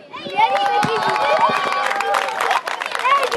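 Young football players clap for the audience at the closing of a Zagłębie Sosnowiec Mini Ekstraklasa Cup youth tournament, with loose clapping mixed into lively crowd hubbub, children's shouts and cheering, close and busy throughout.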